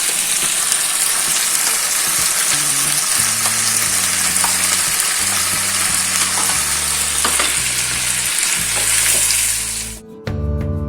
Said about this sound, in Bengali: এবার চিংড়ি মাছটা দিচ্ছি